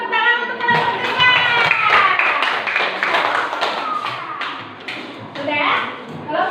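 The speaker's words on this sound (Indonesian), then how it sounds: "tepuk tangan untuk kelompok 3" A primary-school class claps for a group after a light-reflection experiment, uneven hand claps mixed with children's voices and chatter in a classroom.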